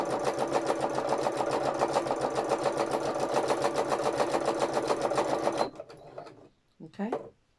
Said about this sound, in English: Machine's quite happy, it's just sewing.